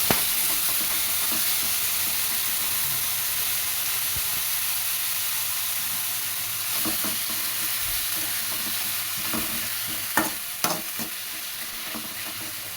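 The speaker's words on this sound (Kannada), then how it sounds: "ಚೆನ್ನಾಗಿ ಹುರ್ಕೊಬೇಕು ಸಬ್ಬಕ್ಕಿ ಸೊಪ್ಪು ಈರುಳ್ಳಿ ಟೊಮೆಟೊ ಎಲ್ಲನೂ ಒಂದಕ್ಕೊಂದು ಚೆನ್ನಾಗಿ ಬೇಯಬೇಕು" Sabsige greens, onion and tomato fry in a pan, a steady loud sizzle and hiss running throughout, with a few clinks and scrapes of stirring near the end.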